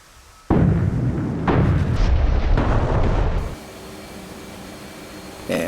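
JDAM bombs dropped from an F/A-18C in a flight simulation game detonate as a sudden loud, deep boom that rumbles for about three seconds, followed by a quieter tail and a brief second burst near the end.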